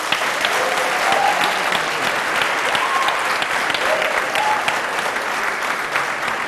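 A live audience applauds warmly to welcome two university teams onto the stage at a youth debate competition, with dense, steady clapping that carries on throughout at a consistent, fairly loud level.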